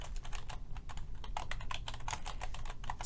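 Steady, rapid typing on a computer keyboard, a close run of dense clicking keystrokes with no pauses and no voices.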